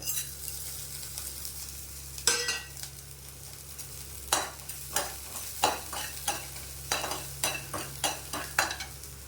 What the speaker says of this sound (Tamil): 5 மிளகா போடுறேன். காஷ்மீரி 2 மிளகா போடுறேன். இதையும் போட்டு இந்த சூட்லேயே இதாகிடும். கல்லுப்பு போட்டுறேன் இதுலையே.